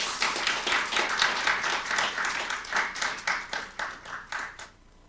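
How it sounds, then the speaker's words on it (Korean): Audience applause at the opening ceremony of a civic media association's founding symposium, a dense sustained clapping from a room full of people that holds steady, then thins out and fades near the end, with no talking over it. "다시 한번 큰 박수 부탁드리겠습니다."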